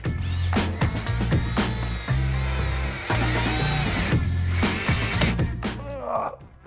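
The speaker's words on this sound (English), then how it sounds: "Step three is to put in the screws, 2 in the latch and 2 in the catch." A power drill or driver drives screws into a door latch and catch, its loud whining buzz running nearly continuously in several bursts with brief stops, close up and alone.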